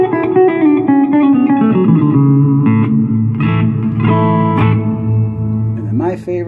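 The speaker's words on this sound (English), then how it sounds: "The second setting here is, I believe, a plate reverb." Electric guitar through a Fender Champion 100 solid-state 2x12 combo amp with a plate reverb setting, played as ringing notes and chords that bloom into a smooth, lingering reverb tail.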